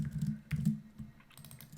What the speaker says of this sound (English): then you're going to type in your question